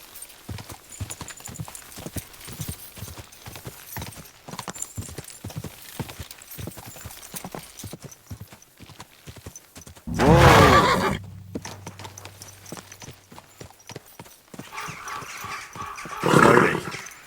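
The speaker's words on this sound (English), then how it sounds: "What a beautiful horse." A horse in Kingdom Come Deliverance 2 clip-clops along in steady rhythmic hoofbeats, then lets out two loud whinnies, the first long and the second shorter near the end.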